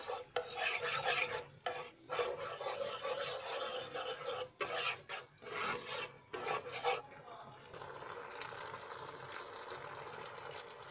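Cornflour mixture stirred into cauliflower manchurian gravy makes a rasping scrape of a spoon against the pan. It comes in rhythmic bursts with short pauses, then settles into a quieter, steady bubbling.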